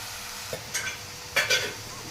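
Oil goes into a hot pan and crackles into a steady sizzle, with a few sharp spitting bursts and a light clink of utensils, close and even.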